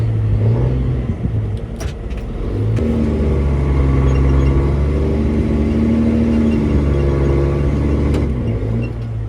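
A tractor engine chugs and revs steadily while reversing to tow a big baler stuck deep in soft ground, a loud low continuous drone with shifting load and occasional clanks.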